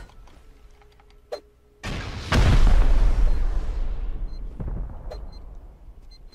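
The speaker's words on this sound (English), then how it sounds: "Let's go up and throw a C4 on the stupid thing" A C4 explosive detonates in the video game Rust, a loud booming blast followed by a long rumbling decay, with a few small clicks and pops before and after.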